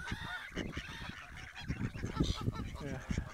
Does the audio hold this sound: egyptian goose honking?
yes